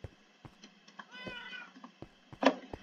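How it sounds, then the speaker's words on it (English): A cat in the Minecraft video game meows softly a couple of times, one drawn-out mew followed by a louder, sharper meow, amid faint clicks and quiet game sounds. "There's Cat"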